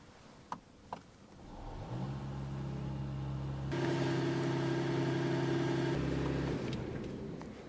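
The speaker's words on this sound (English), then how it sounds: "it has a 3-liter 6-cylinder engine under the bonnet, producing over 380 horsepower" A 2024 Mercedes CLE 450 AMG coupe's 3-liter six-cylinder engine idles with a low steady rumble, then revs up to a louder, fuller roar that holds before easing back down, heard close.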